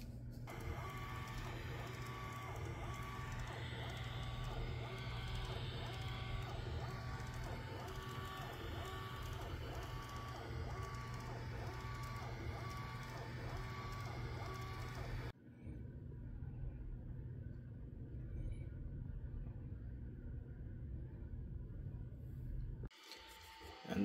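A 3D printer lays down a print on a Lattice PES build plate with a steady close mechanical hum and stepper whine, which cuts off sharply partway through into near quiet.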